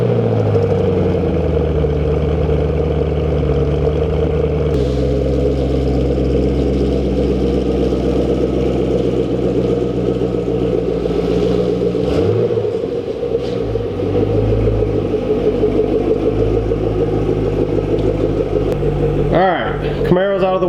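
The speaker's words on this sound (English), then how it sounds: "let's get a cold start" An Audi R8 left unused for two or three weeks runs after a cold start, its engine holding a loud, steady, close rumble throughout with speech over it.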